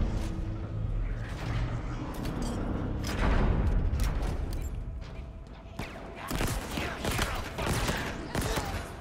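Grenade blast in the shooter Halo Infinite, a broad rumbling burst mid-clip set among dense gunfire and busy game noise, with a voice reacting nearby.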